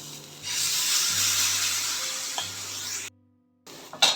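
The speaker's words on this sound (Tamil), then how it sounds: "தவாவில் இந்த மாதிரி குட்டி குட்டியாக போட்டு எடுக்கலாம்." Sweet potato adai batter hitting a hot tawa gives a broad, loud sizzle that holds steady for about three seconds, cuts off abruptly, then returns with a few short crackles.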